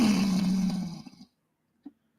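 A man imitates Sabretooth's animal roar and snarl from X-Men 97 with his voice: one loud, harsh, growling roar that trails off after about a second, then a brief faint grunt.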